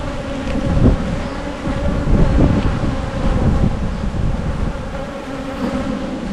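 Dense, steady buzzing of about a thousand honey bees swarming around an open hive frame with brood and eggs, close and continuous, with light wind noise on the microphone.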